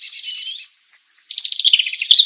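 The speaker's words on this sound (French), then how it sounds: "as-tu remarqué les rouges-gorges ? Tu entends son chant clair et rapide" A European robin singing a clear, rapid song, a bright continuous run of high warbling notes heard close and loud, alone with no voices.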